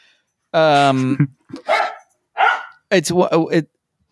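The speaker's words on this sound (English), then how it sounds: "My dogs are now playing with each other too" Dogs bark and yip playfully at each other indoors, several loud close barks in quick bursts with pauses between them.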